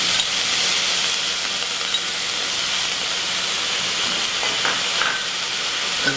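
Steady, bright sizzling and hissing as liquid is poured into a hot enameled pan, a continuous frying sound with a few faint clinks and no talk.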